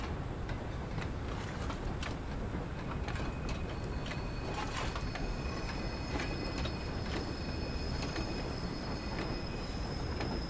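A steam locomotive rolls along with its cylinder cocks open in Train Sim World 2, giving a steady, loud hiss of escaping steam over rhythmic clicking wheels and faint squeals.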